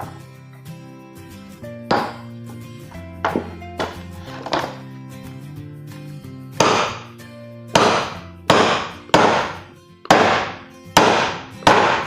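Metal parts of a single-tub washing machine gearbox being knocked apart without a hammer, using a substitute tool instead; a series of sharp, close thunks and taps, sparse at first and then a steadier run of louder strikes, with no talking.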